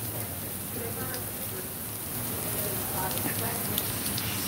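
Steady rain falls at night in a downtown street outside a marketplace, a dense, even hiss of drops on pavement and surfaces that grows slightly louder partway through and continues without pause.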